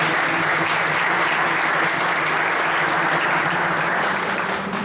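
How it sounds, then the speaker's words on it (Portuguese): A church congregation applauding during a Brazilian worship service, dense continuous clapping at close range that runs the whole stretch and tapers slightly at the end. "Palmas para Jesus, amém?"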